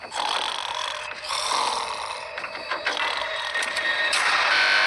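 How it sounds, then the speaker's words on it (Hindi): A man snoring in a prison bed, a raspy, buzzing rattle that repeats in uneven breaths, moderately close and alone. "वो स्टूपिड कॉप सारी रात खर्राटे मारता रहा।"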